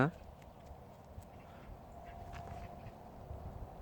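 Faint bird calls drift through a quiet outdoor scene, thin and intermittent against low background noise, with people talking over them.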